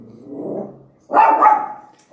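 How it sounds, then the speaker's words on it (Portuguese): A pet dog indoors at home gives a low, rumbling growl, then after a short pause lets out one loud, close, drawn-out bark that trails off. "meu cachorro ali que tá latindo"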